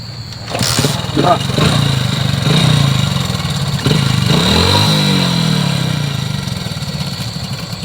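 A motorcycle engine revs and idles up close, its pitch rising and falling, with people talking over the engine noise.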